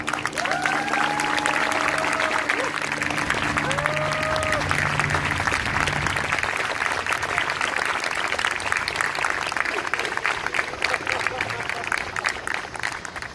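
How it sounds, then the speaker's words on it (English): A town hall audience gives a speaker a sustained round of applause, dense and even for the whole stretch, with a few voices and cheers rising over the clapping. "Round of applause again for Carmen."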